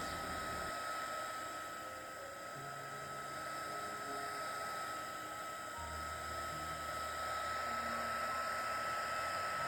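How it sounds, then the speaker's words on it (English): Heat gun blowing steady hot air over a resin art tray with a black poured background, a continuous whirring hiss that holds close and even for the whole stretch. "we're gonna hit it with the heat gun"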